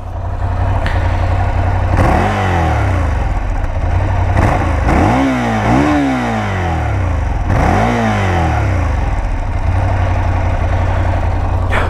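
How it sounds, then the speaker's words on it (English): A 2017 Ducati Monster 797 motorcycle engine idling close by, rising in several sharp throttle blips that sweep up and fall back before settling to a steady rumble. "on this little GoPro audio, we're going to hear this bike, 2017 Ducati Monster 797"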